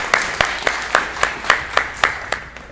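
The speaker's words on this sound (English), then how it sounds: "let's go ahead and clap for the actors right now" An audience at a school production of Mozart's The Magic Flute claps for the actors in a steady, even rhythm of about ten sharp claps struck together, close and fairly loud, with no talking.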